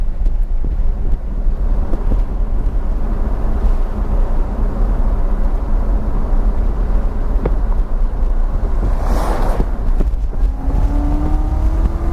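2019 Corvette Z06 Special Edition with the exhaust valve in tour mode, a steady low drone of the V8 exhaust while driving, with wind noise over the microphone and a passing swell near the end.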